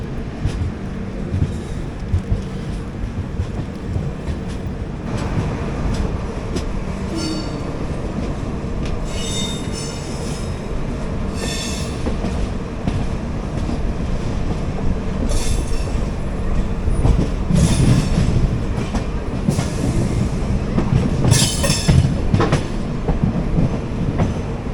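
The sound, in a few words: Garib Rath Express train running after leaving station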